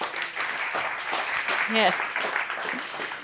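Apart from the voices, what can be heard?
audience applause for a panelist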